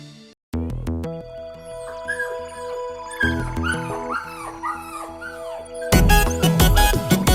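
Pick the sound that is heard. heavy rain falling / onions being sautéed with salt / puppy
puppy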